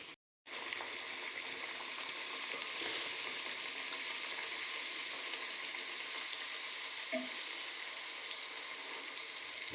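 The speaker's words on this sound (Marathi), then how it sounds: "दोन्ही साईडने तिला छान तळून घ्यायची आहे" Puri deep-frying in hot oil, cooked on both sides, giving a steady, close, continuous sizzle and bubbling with no talk over it.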